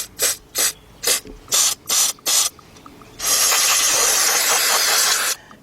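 Aerosol cleaner sprayed onto Nissan RE0F11A transmission pressure control solenoids in a series of short, close hissing bursts, followed by one long continuous spray.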